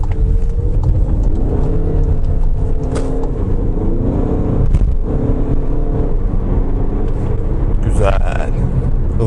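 A 2.0 TDI 190 PS car accelerates from the cabin, a steady engine drone and road rumble running throughout, with people talking over it.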